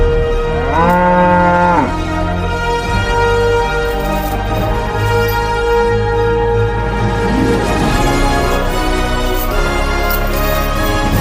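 A buffalo moos loudly and close, several long drawn-out lowing calls in succession with no talk over them.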